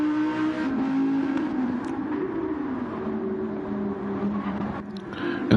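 A race car pulls out of the pit lane in a racing video game, its engine droning steadily and loudly with a shifting tone as it accelerates, heard without talk.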